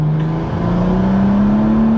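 A 700 bhp manual BMW M140i accelerates hard, its engine holding a loud, steady tone that briefly dips around a gear shift and then climbs again.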